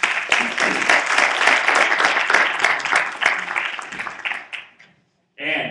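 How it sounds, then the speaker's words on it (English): Audience applause for candidates at a newspaper-hosted candidate forum, a dense, steady patter that holds for about four and a half seconds, then fades out before a voice briefly starts. "I want to offer a round of applause for our wonderful candidates that have shown out today"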